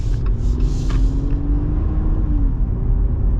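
A 2024 Jeep Gladiator Willys rolls over bumps, heard from inside as a low steady road rumble with soft thuds and a faint hum, no voices.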